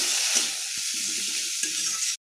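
Spice paste with red chili paste fries in a pan with a bright, steady hiss, light stirring scrapes underneath, ending abruptly in silence.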